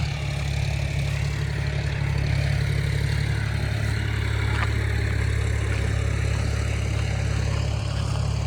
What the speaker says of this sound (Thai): เสียงรถไถดังต้องขออภัยด้วยนะครับ